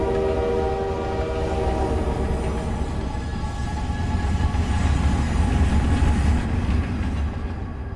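Train horn blaring in a horror film scene, its sustained tonal blast riding over a steady low rumble of rolling rail cars and faint clickety-clack, loud and continuous throughout with no talk.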